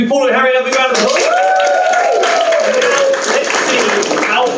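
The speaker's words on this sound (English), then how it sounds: "Can we give Paula and Harry a big round of applause?" Audience at an improv comedy show applauding two guests, a dense continuous round of clapping with voices and whoops over it.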